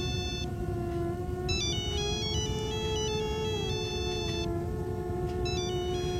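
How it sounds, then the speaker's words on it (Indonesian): A mobile phone rings with an incoming call, a steady melodic electronic ringtone that repeats in bright phrases over a constant low rumble, with no voices. "Suara panggilan teleponku bernyanyi."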